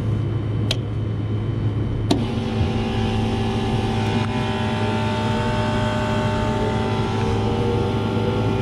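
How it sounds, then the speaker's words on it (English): Walk-in cooler fans run with a steady, even mechanical drone and a faint tonal hum, broken by a couple of sharp clicks near the start, close and continuous with no voices. "Both fans are running, so we know that that's not an issue."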